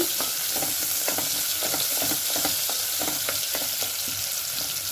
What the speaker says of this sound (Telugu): చిన్న చిన్న ముక్కలుగా కట్ చేసుకొని వేసుకోవాలి వేసుకొని కలుపుకోవాలి బాగా ఉల్లిపాయ బాగా వేగాలండి